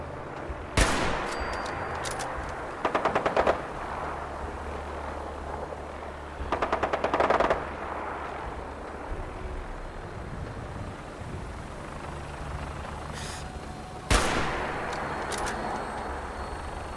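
Automatic gunfire from Fallout 4 in repeated bursts, with single loud shots standing out near the start and again near the end, over a steady low rumble of game ambience.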